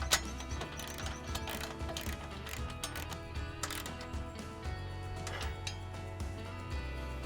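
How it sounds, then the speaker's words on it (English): A 19mm socket ratchet tightens a screw through a forklift foot on a flat pack storage container, giving a continuous run of close mechanical clicking and grinding. "Get it nice and tight with a 19mm socket."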